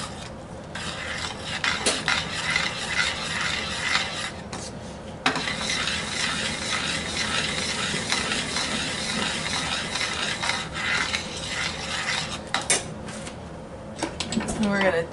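White sugar is stirred into homemade spaghetti sauce in a pot, with close scraping, rubbing and clinking of a spoon against metal, a voice speaking now and then.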